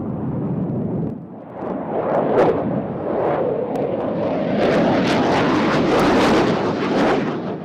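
Hungarian Air Force MiG-29 jet flying, a powerful jet roar that dips briefly near the start, then swells with rising, tearing afterburner-like bursts, close and loud throughout.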